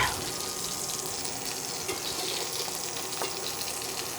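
Steady, loud sizzling of salmon searing in a hot frying pan, a constant crackling hiss with small pops and no talking.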